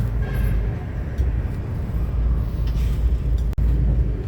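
An LRT light-rail train at a station platform, a steady loud rumble of rolling cars and machinery running through the whole stretch, with a brief sharp click near the end.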